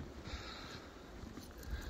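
Wind blows on a cold day after about three inches of wet, heavy snow, as a steady, rough, gusty rush that rumbles close to the microphone with no voices.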